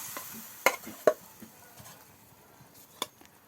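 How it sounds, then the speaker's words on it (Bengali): Boiled lentils and drumstick pieces being sautéed with spices in a pan, a quiet low sizzle broken by a few sharp scrapes and knocks of a spoon stirring against the pot. "স্বাদিনা ডালগুলোকে এখন ভালো করে কষিয়ে নিচ্ছে"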